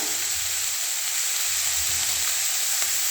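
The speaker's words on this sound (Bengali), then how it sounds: "দেখো ভাজা হচ্ছে, ফ্রাই হচ্ছে।" Onion stalks frying in a pan with potato and chillies added, a constant bright sizzle and hiss with soft low stirring bumps underneath, close and steady throughout.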